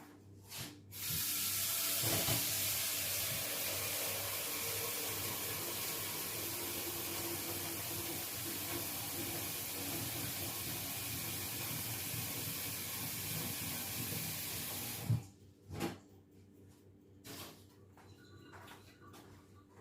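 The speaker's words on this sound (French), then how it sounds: "Donc, je vais le remplir d'eau." Tap water gushes steadily into a saucepan for about fourteen seconds with a bright hissing rush, then stops, leaving a few clinks and handling sounds.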